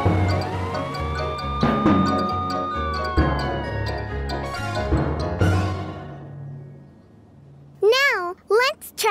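A cartoon police car siren from a children's animated show about a magic pet that morphs into vehicles, heard as a short, wavering wail near the end after a stretch of music and speech.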